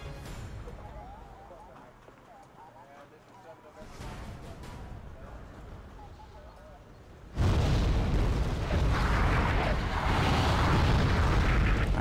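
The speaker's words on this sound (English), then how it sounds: "And here we got stuff getting blown up." Explosions and battle noise in the Wargame AirLand Battle video game: a dull rumble builds, then a sudden loud blast erupts into sustained booming roar, with talking during the quieter early part.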